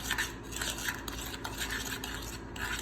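Cinnamon being stirred into a healthy snack in a bowl, a steady close scraping and clinking of a utensil with soft rhythmic strokes, no talking.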